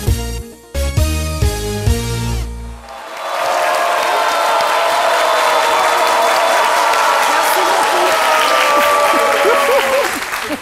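A studio audience bursts into loud, sustained applause after a brief musical sting, the dense clapping holding steady at close range for several seconds until the end.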